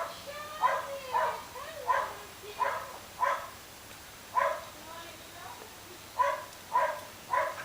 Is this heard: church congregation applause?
no